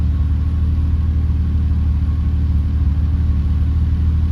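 A turbocharged Ford Barra engine fitted with a bigger turbo in a Nissan Patrol idles at about 1400 rpm, giving a steady, even, close-up rumble with no speech over it.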